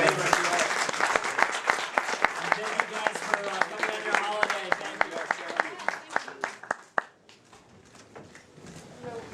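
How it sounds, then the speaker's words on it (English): Clapping from a small audience at an Aladdin press conference: a brisk, rhythmic run of claps that thins out and stops after about seven seconds, leaving near silence. "Let's give them a round of applause."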